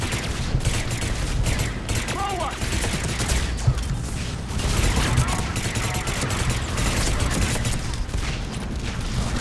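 Dense gunfire and explosions from the Mass Effect 3 video game, with rapid shots and booms packed continuously over a loud, steady battle din.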